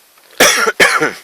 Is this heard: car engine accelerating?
no